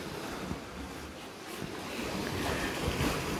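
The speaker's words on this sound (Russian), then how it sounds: "И любуюсь на волны." Black Sea waves breaking on a Crimean shore in June, a continuous broadband wash of surf with gentle swells rising and falling, steady and fairly close, mixed with some wind noise.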